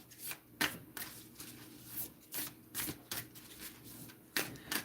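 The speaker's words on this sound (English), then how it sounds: "These cards are a little bit harder to shuffle." Oracle-style cards that are a little hard to handle are shuffled by hand, giving a series of quick, close riffling bursts in an irregular rhythm.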